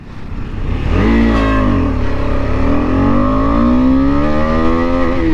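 KTM 250 Adventure motorcycle accelerating hard, its single-cylinder engine loud and near, pitch climbing steadily through a gear change in one continuous pull.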